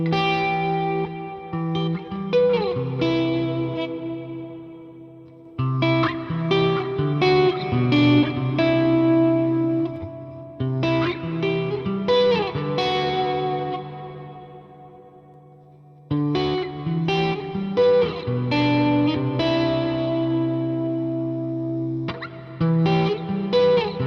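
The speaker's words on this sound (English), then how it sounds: "Turn some reverb on." Guitar patch played through an effects unit with reverb, chords and picked phrases ringing out in repeated bursts separated by decaying tails, loud and close with lingering spacious echo between phrases.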